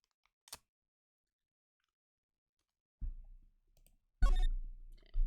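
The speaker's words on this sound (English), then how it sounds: "I will eat a piece of candy. Just pry it open right here." A candy wrapper is pried open, giving a sharp crinkling snap, then a burst of louder crackling plastic after a quiet pause.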